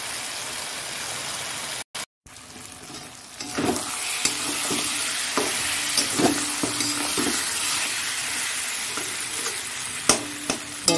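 Mutton being stir-fried in a pan for mutton kosha, a steady loud sizzle broken by repeated scraping stirs, with a brief dropout early on and no talking.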